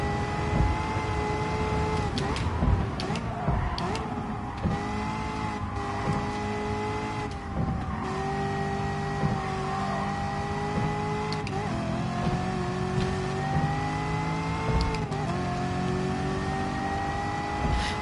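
A race car engine in Gran Turismo Sport drones steadily for the whole stretch, its pitch rising and dipping through gear changes and throttle lifts, loud and continuous with no talking.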